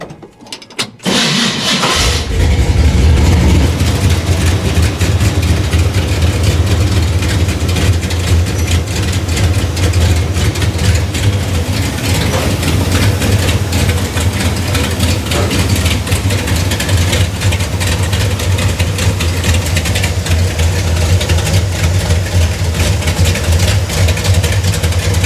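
A 1972 Chevy C10 pickup engine cranks and fires up after a brief start, then settles into a loud, steady, low idle that runs on unchanged.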